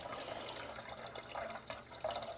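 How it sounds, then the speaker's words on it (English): A faint, steady stream of running water splashes softly and continuously in an indoor room, uneven trickling and spattering with no voices over it. "it is unnecessary for you to listen to a urine-like stream of water"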